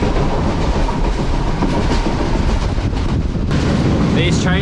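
A train rumbles along the rails in Sri Lanka with a steady, loud roar and faint rhythmic clatter, heard from inside a carriage.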